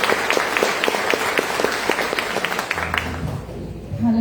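A church congregation at an evening evangelical service claps together in a dense, steady burst of applause that thins and fades toward the end, leaving a low hum.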